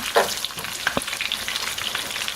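Breaded turkey cutlets fry and brown in a crowded pan, giving off a dense, continuous close sizzle with small pops and crackles.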